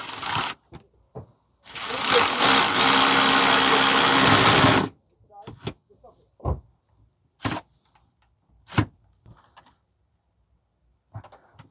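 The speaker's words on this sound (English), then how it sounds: "So tighten up the bolt now." Power tool driving a bolt on a 2015 Toyota Sienna 3.5 V6 AWD rear differential mount bushing, one loud buzzing run of about three seconds, followed by scattered short clicks and clunks of tool handling.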